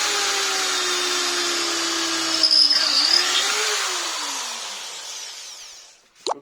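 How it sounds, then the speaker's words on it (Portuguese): A Lith LT7002 power drill boring holes into a dry, hard wooden rafter at full speed in drill mode whines steadily and close for several seconds, its pitch sagging slightly as the bit bites, then winding down with a brief clack at the end. "Bem tranquilinho de fazer os furos nela."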